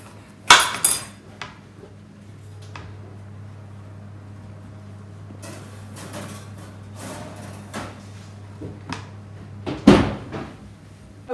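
A baking tray of gingernut dough slides into a home oven and the oven door is handled, making a few sharp metallic clunks and bangs near the start and end, with softer rattles and a low hum between them.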